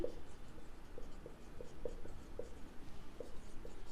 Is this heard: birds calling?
no